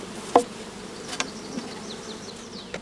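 Honey bees in a shook swarm make a faint, soft buzz, punctuated by a few sharp, close ticks and knocks.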